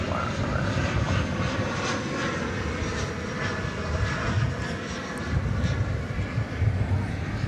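American Airlines jet in older livery taking off from Dallas Fort Worth bound for Los Angeles, giving a steady, fairly distant engine roar that rumbles on without a break.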